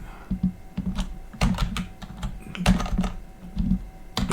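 Computer keyboard being typed on at a desk, with irregular clusters of close, crisp key clicks and taps continuing for several seconds without speech.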